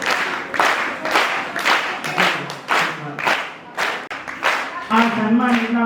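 Audience clapping at a Raksha Bandhan festival award ceremony honoring women, a dense run of applause swelling and easing in waves over nearly six seconds, with a voice speaking over it near the end.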